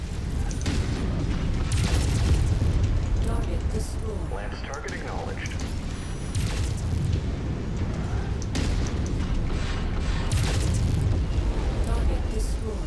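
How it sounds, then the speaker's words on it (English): Ultra Auto Cannon fire in MechWarrior 5 battle, dense rapid booming bursts and explosions rolling continuously at a loud, steady level throughout. "the fire rate of an Ultra Auto Cannon just rocks."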